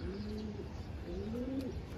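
Racing pigeons coo softly on a rooftop, with a couple of low, rolling coos rising over a quiet, airy background and no voices.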